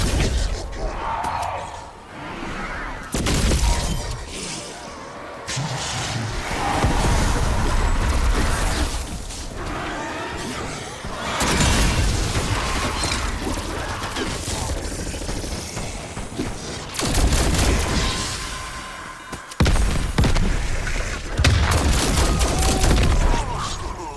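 Gunfire and heavy crashes from the zombie video game Mauer der Toten, loud and nearly continuous across the whole stretch, with bursts of shots and impacts broken by brief lulls, and voices talking in places.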